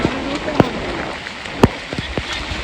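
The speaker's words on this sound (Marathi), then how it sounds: "आणि पाऊस पण खूप जोरात येतोय." Heavy rain pours during a trek through the Andharban dark forest near Pune, a steady close wash of drops striking a camera, with a few sharp taps and thumps on the device and faint voices under it.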